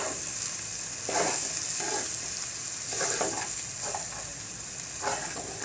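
Ginger garlic paste with chilli powder, salt and turmeric fries in a pan for an egg curry, giving a steady close sizzle with a few louder bursts as it is stirred; no one speaks.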